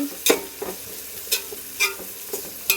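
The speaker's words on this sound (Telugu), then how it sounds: "ఇప్పుడు అల్లం వెల్లుల్లి పేస్ట్ వేస్తున్నాం." Ginger garlic paste sizzles in a pan for pulao under a low, steady frying hiss, while a spoon scrapes through it in regular, distinct strokes about every half second.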